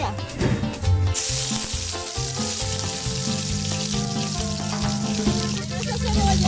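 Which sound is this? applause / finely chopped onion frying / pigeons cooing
finely chopped onion frying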